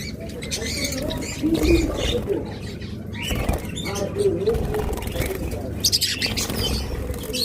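Caged pet birds at a sale, among them lovebirds, cockatiels, budgerigars and finches, keep up a steady mix of chirps and calls with some wing flapping, while someone talks over them throughout.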